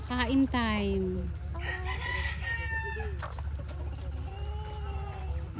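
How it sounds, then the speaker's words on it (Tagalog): Chickens cluck while a rooster crows loudly at the start, with further clucks and a fainter crow over a low steady hum; the birds sound close and lively. "Ang saya-saya naman ng mga manok."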